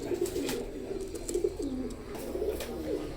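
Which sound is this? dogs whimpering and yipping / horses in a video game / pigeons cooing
pigeons cooing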